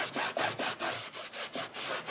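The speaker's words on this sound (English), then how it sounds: "Get my cloth. I'm just going to rub this off." A cloth is rubbed briskly over a paper crafting surface in quick, even back-and-forth strokes, about eight close, soft swishes in a steady rhythm with no talking.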